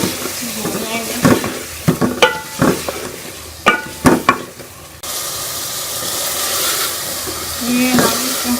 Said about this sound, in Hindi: इसके अंदर मैं टिंडे डाल के भी अच्छी तरह से भून लूँगी